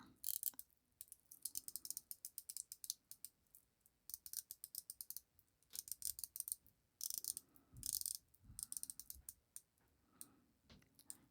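The unidirectional bezel of a Zelos Blacktip 200m diver watch is turned, giving crisp, rapid ratcheting clicks in several close bursts, each a quick run of ticks, with brief pauses between and no voices.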